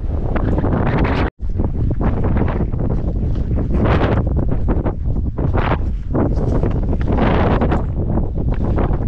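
Strong wind blasting across open moorland on Bodmin Moor, roaring continuously against the microphone with heavy buffeting, one brief dropout, and no voices.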